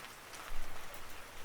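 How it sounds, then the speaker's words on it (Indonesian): Steady hiss of rain falling in a Roblox survival game, a short, even wash of noise with no talking. "mana hujan lagi"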